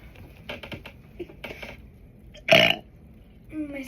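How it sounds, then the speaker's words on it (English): A single loud, close burp lasting about a quarter second, set in a burping contest, following some faint shuffling and handling noises and followed by a quieter trailing sound. "I'm trying to get it up all the way up here, and then I can burp."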